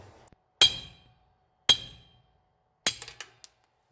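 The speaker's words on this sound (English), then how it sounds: "I just got a punch and a hammer, and we're gonna see if we can knock this thing out." Three sharp metallic hammer strikes ring out on a punch driving out a broken wheel stud on a 1967 Chevy C10, spaced about a second apart, each with a short bright ring, plus a few small taps.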